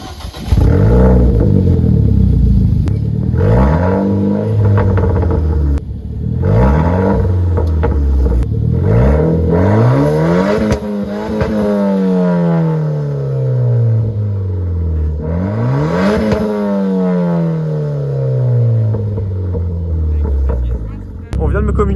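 A Renault Clio 4 RS Cup with its exhaust line revs repeatedly, each pull rising sharply and falling back, loud and close with a raspy tone, while someone talks in French between the revs.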